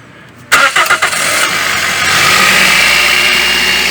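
A Toyota Etios engine cold-starts after near silence: the starter cranks in a few quick pulses, the engine catches and settles into a steady loud idle, heard close up.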